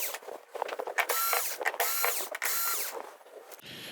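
Screws being backed out of the rear panel of a Toshiba 50L1400U TV with a powered driver: short, close whirring bursts with brief pauses between them, ending with a lower clunk.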